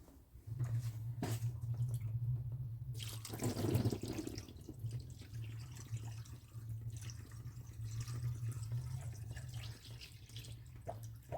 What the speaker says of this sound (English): So I'll tip a bit more water in it and we'll have a look exactly where this leak's coming from.